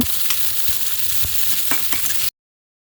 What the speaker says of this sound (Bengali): সরিষার তেলটা যখন গরম হয়ে যাবে তখন কেটে রাখা পেঁয়াজ দিব আর সামান্য লবণ দিব, দিয়ে এটা ভালো করে বাদামি করে ভেজে নিব